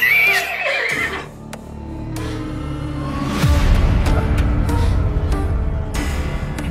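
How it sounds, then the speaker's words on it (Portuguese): A horse neighs loudly and close at the start, a shrill whinny over a low rumble, followed by a deep swelling drone that fills the rest of the moment. "O cavalo se entrega"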